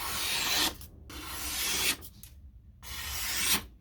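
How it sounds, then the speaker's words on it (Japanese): A honyaki kitchen knife being sharpened is rubbed in long strokes against an abrasive, giving three harsh, rasping passes separated by brief pauses, close and alone. "旋盤で研いでます。"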